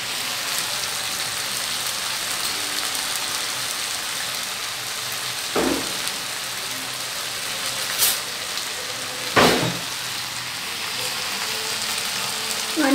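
Fish scramble with roasted cumin sizzling steadily in a pan, a continuous soft frying hiss broken by a few louder scrapes as it is stirred.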